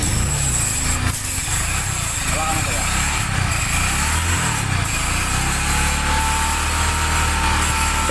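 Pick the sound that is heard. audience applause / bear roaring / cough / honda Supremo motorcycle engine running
honda Supremo motorcycle engine running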